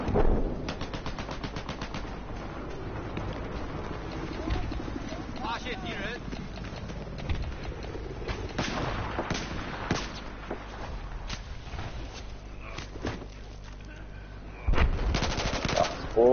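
Battlefield 4 gameplay with rapid machine-gun bursts and scattered gunshots cracking loudly through a busy battle, mixed with explosions and player voices talking over the fighting.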